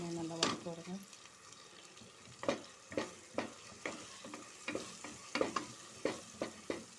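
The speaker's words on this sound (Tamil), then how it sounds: "எல்லாமே நல்லா வதக்கி விடுங்க." Chicken and slit green chillies for pothina (mint) biryani sauté in a pot with soft frying under a series of regular spoon scrapes and clacks. Faint voice in places.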